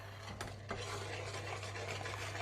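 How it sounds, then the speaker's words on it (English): A ladle stirs leek and potato soup in a pot, making quiet scraping strokes with a couple of sharper clinks over a low steady hum. "just going to stir it a little bit like that"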